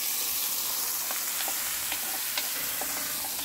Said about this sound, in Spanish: Ahorita vamos a poner a freír la papa.